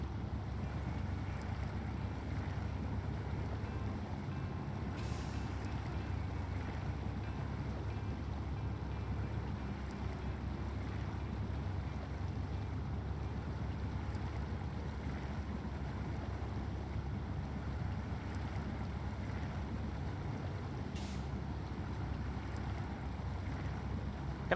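A truck drives through a river in the video game SnowRunner, giving a continuous rushing water and engine wash. The sound stays steady and fairly loud throughout, with no talk.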